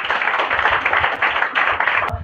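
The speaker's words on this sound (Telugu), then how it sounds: "ఇప్పుడు గట్టిగా చప్పట్లు కొడదాం." A church congregation claps loudly together in dense, steady applause that continues for a couple of seconds.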